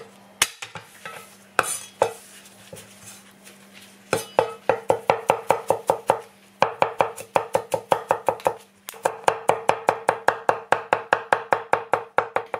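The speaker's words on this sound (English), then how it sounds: "Now we're going to chop some garlic." A knife chops garlic on a cutting board in a steady run of crisp, rapid taps. A few slow strikes open the sequence, then it speeds into fast, even bursts, close and clear with no talking.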